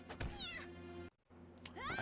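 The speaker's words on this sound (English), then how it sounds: "Goddamn cat!" A cat meows twice in the video game Persona 5, a drawn-out wavering cry, a brief silent gap, then a second rising meow, close and clear.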